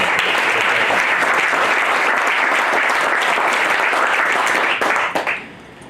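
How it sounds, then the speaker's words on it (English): Sustained audience applause at a wells dedication ceremony, dense and steady clapping from a crowd that fades out near the end. "we should give another round of applause to John and Mike from KMO"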